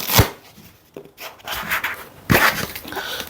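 Cork sheets being handled and stuffed into a parcel for shipping, with close rustling, rubbing and soft thumping scrapes in irregular bursts, a couple of sharper knocks standing out.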